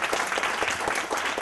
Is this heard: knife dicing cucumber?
no